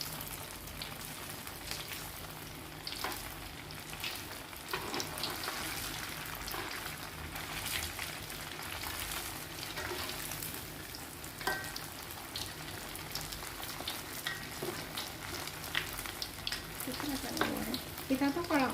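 Tofu pieces frying in hot oil for a spicy salt-and-pepper tofu dish, giving a steady, fairly quiet crackling sizzle throughout with occasional stirring clinks.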